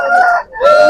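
A rooster at a poultry market crows loudly and close, a short strained call broken by a brief dip.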